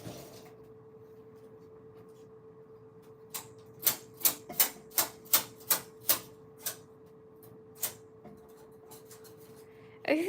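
A Silver Reed knitting machine works in a quiet room, its carriage giving a run of about a dozen sharp mechanical clacks in a quick, uneven rhythm, with a faint steady hum underneath.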